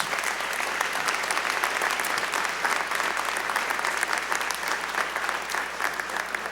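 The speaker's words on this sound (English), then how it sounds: "Let us give them all a round of applause" Sustained audience applause at a university presidential investiture ceremony in a performing arts center, dense even clapping from a large crowd filling the room without pause.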